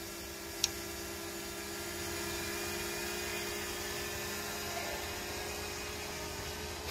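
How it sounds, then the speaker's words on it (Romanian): A DJI Mavic Mini drone flies over a garden with chickens, a steady faint high-pitched whine and buzz held at an even level throughout, with a brief click early on and no speech. "Să sperie de dronă."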